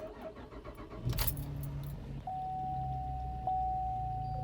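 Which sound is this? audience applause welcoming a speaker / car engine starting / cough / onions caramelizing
car engine starting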